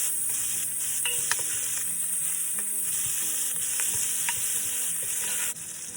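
Onions frying in a pot for Portuguese bean soup make a steady, close sizzle with a dense crackling hiss, brief scraping stirs over it, and no talk.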